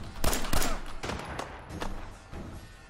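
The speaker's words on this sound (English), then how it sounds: "How are they shooting me?" Gunfire in Fallout 4: a string of sharp, loud shots in uneven bursts, several closely spaced cracks up front and then scattered reports, with no talk over them.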